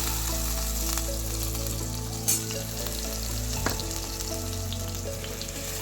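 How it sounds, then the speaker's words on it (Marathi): Chopped tomato and large potato pieces fry in a pan for a bitter field bean (kadva val) curry, with a constant close sizzle, a steady low hum and an occasional light clink of stirring. "टोमॅटो परतत असतानाच इकडे जो आपण मोठा मोठा चिरून बटाटा घेतलेला आहे तो घालायचा आहे"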